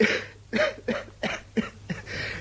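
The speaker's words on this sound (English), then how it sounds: "You hear that cough?" A run of about six harsh, chesty coughs in a rough rhythm, close and fairly loud, with no talking.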